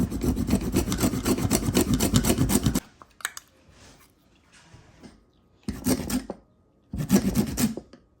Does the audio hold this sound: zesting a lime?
yes